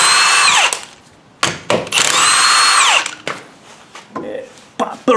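On a Ford Focus, a power tool spins off the passenger-side wheel's 3/4-inch lug nuts in loud, close, whining bursts that rise and fall, with short gaps between them.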